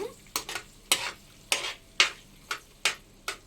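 Scrambled egg pieces being stirred in a frying pan for egg fried rice, with about eight distinct scraping strokes at a steady rhythm over a faint sizzle, close and fairly loud, no talking.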